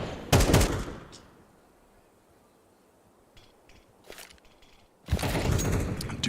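M4 rifle bursts in a Counter-Strike match, loud clattering volleys at the start and again at the end, with a quieter stretch of faint clicks and footsteps between them.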